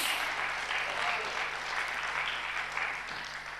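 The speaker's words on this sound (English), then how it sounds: "Now you can clap if you liked." An audience at a spiritual talk claps in a steady, sustained round of applause that fades slightly toward the end, filling the room without talk over it.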